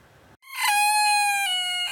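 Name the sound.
Maurice the rooster crowing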